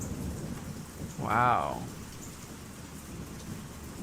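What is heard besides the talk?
rain and thunder outside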